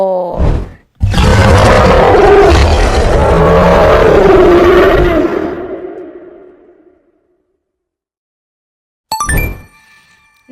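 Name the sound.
lion roaring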